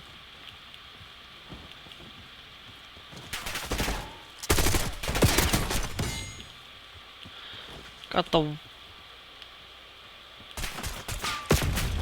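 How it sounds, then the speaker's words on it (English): Black Ops 6 gunfire bursts in several rapid automatic volleys, loud and close, separated by quiet stretches, with a brief metallic clatter in between and a few spoken words. "You're gonna shoot me from behind?"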